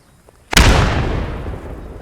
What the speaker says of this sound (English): Some grenades going in.